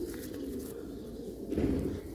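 Pure Sialkoti pigeons of the chuha type, a paired male and female, coo in low soft throaty bursts close by, swelling louder toward the end over a steady muffled background.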